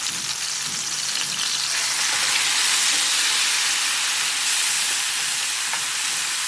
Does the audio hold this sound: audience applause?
no